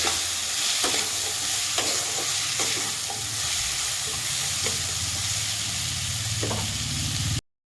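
Ridge gourd frying in a pan for a small-fish curry with potato, brinjal and tomato, a loud steady sizzle with repeated scrapes and clinks of stirring, close up and without talk.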